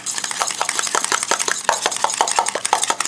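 Quick, rhythmic clicks of a utensil beating eggs and milk in a bowl, steady and close with no voices.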